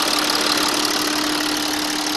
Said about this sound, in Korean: 엔진 소리는 뭐 주행 거리가 짧으니까 당연히 좋고요